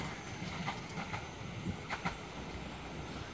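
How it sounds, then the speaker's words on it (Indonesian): A cargo train crossing a high railway bridge, a continuous low rumble with rhythmic clickety-clack of wheels over rail joints, steady and moderately loud throughout. "tetap saja kalau kereta api melintas di atasnya pasti bergoyang"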